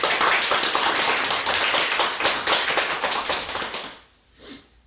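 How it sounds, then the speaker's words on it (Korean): Applause from a church congregation celebrating a birthday, many hands clapping loudly and steadily for about four seconds before it quickly fades to a faint remnant. "우리 박수로 축하를 좀 드리겠습니다."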